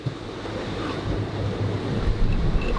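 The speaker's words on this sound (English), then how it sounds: "The winds, we've got a headwind and it's quite rough" Strong wind buffets a boat in rough seas against a headwind, with gusty rushing noise and crashing water throughout. It is loud and close, with microphone wind rumble and no talking.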